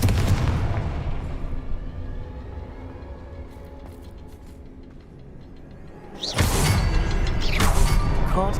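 A Confringo fire spell blasting in Hogwarts Legacy, loud booming explosive rumble that slowly fades, then a second heavy blast with crackling debris, no speech.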